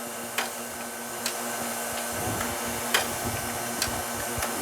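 Mailstar 500 mail matching machine starting up and jogging a piece, a steady mechanical hum with a low tonal drone, broken by several short sharp clicks and taps spaced a second or so apart.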